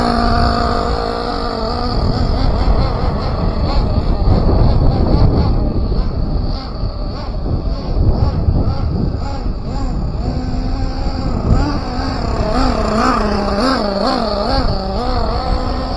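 A Team Associated MGT RC monster truck, not yet tuned and running sluggish, idles and revs continuously as its engine warms up, a steady buzzing drone with wavering pitch and occasional rises, loud and close throughout.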